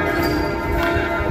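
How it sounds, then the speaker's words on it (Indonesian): A church bell rings near a dam in a short, dense, loud burst of resonant clanging tone lasting just over a second. "lonceng gerejanya di ini cut dulu"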